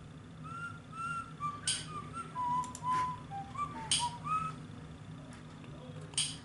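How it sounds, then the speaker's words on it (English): The principal in the video game Baldi's Basics whistles a tune of scattered, wavering notes over a low steady background hum, broken by several sharp ticking clicks. "Why is the principal whistling?"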